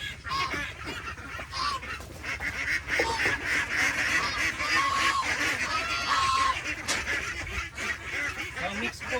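Hungry domestic ducks on a rural farm at feeding time, raising a loud, continuous chorus of overlapping quacks and honking calls close by, with no talking.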